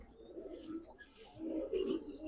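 Fine-feathered silver Giribaz pigeons coo close by, two low throaty rolling phrases with a brief gap, alone against faint background rustle.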